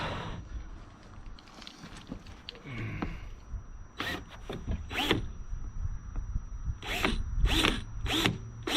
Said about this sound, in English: I'm just going to use my cordless drill with the largest drill bit it can take.